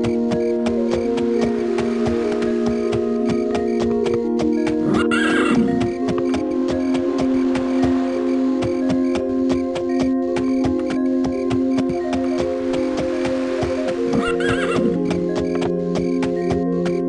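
Horse neighing over steady hoof falls in the Daggerfall video game, with a continuous layered game soundscape and a brief louder whinny burst partway through, no talking.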